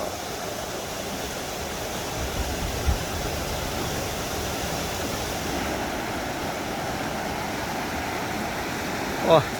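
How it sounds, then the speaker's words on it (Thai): Strongly flowing flood water rushing past a riverbank levee in Thailand during heavy flooding, a steady loud broadband roar close by with a brief splash near the end. "ช่วงนี้น้ำไหลแรงมากครับท่านผู้ชม"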